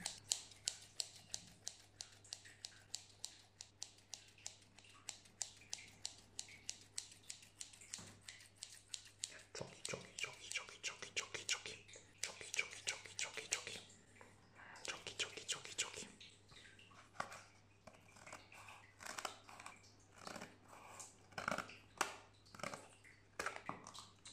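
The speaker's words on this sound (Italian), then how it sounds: "Quindi apriamo con la nostra forbice per gli unboxing" Scissors snip and cut through the plastic wrapping of a Yu-Gi-Oh structure deck during a close, quiet unboxing, with a rapid run of crisp, dry crunches and clicks that grow denser and louder midway and continue throughout, with no talking.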